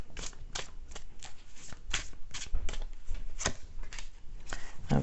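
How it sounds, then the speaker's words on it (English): Tarot cards shuffled and handled at close range, a run of quick papery riffles and flicks repeating for several seconds before a card is drawn. "I'm going to go ahead and pull on my card here."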